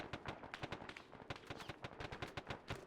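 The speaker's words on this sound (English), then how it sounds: "It sounds like there is a lot of contact at the town," Dense video game gunfire and heavy weapons fire around a town, with rapid overlapping shots and bursts sustained throughout, moderately distant and continuous, without talk.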